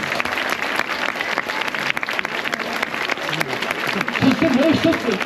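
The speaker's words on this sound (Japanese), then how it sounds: "最後に僕からお客さん皆さんに拍手を送ります。" A crowd claps for performers at a nighttime shrine festival in Nagasaki, with dense, sustained applause building toward the end, and some voices mixed in.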